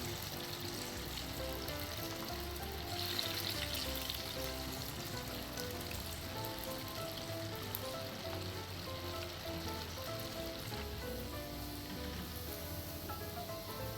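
Coated potato pieces deep fry in hot oil for chilli potato, a steady dense sizzle and bubbling hiss that holds evenly throughout with no voices.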